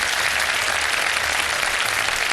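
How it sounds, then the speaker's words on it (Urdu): A studio audience breaks into dense, steady applause, many hands clapping evenly at moderate volume for the full couple of seconds with no voices over it. "تالیوں سے بتایا نا کہ تیار ہیں"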